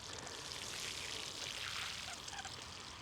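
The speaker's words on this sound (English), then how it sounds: "Give them a good water." Water pours steadily onto freshly planted soil in a backyard flower bed, a continuous close splashing trickle that runs unbroken for the whole stretch with no voices.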